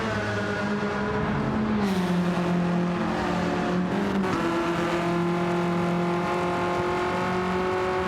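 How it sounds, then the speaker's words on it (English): A front-wheel drive Renault race car in Gran Turismo 7 at Laguna Seca drones loudly and steadily throughout, with its engine pitch dipping and shifting at gear changes. "I'm driving with the front-wheel drive Renault"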